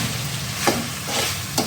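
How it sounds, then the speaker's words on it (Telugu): Prawns being stirred with masala in a frying pan, a soft continuous sizzle with a few brief scraping strokes of the spoon, close and steady. "రొయ్యలు బాగా అన్నీ కలిసేలాగా, మసాలా అంతా పట్టేలాగా కలుపుకోవాలి."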